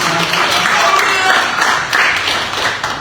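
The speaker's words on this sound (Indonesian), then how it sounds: "Boleh kita berikan tepukan tangan untuk Yesus." A church congregation applauds for several seconds, a dense, continuous wash of clapping with voices mixed in.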